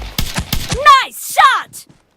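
Shotguns fire in a video game quickmatch, with a few sharp, closely spaced blasts followed by a brief voice.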